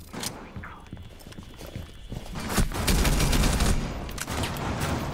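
Rapid gunfire in the shooter game Rainbow Six Siege, dense crackling bursts that swell louder and heavier toward the end, with faint voices partly underneath.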